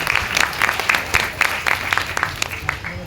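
An audience at a Shri Swami Maharaj birth anniversary celebration bursts into steady, moderately loud applause, many hands clapping together for a few seconds with no voices on top.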